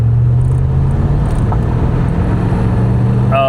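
A car on a short test ride after its air ride suspension was removed, giving a steady loud low engine and road rumble from inside the cabin, with a faint rising whine at the end.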